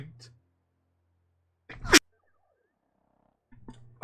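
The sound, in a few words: sneeze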